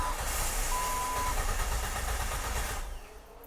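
Jeep engine cranking without catching, a steady loud mechanical churn in neutral that holds for about three seconds before dropping off abruptly near the end.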